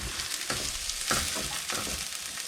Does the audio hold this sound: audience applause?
no